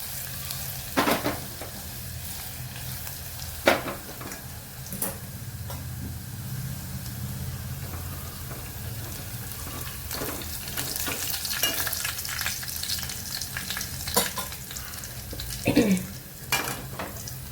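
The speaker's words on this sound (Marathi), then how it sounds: "मस्त तांबूस रंगावर लसूण भाजलेलं आहे" Chopped garlic sizzling in hot oil as a tempering for a spinach dish, with a steady crackling fry broken by a few sharp clinks and scrapes of a spoon against the pan.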